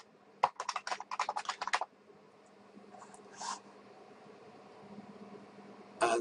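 A computer keyboard typing a web address, a quick burst of close, crisp keystrokes followed by a pause, a faint shuffle and one more key sound at the end.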